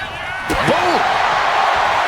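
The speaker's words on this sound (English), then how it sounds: "These two trading one blow after another." Two sharp strikes land in quick succession during a WWE Raw Women's World Championship special guest referee match between IYO SKY and Rhea, heard over a steady arena crowd roar and commentary.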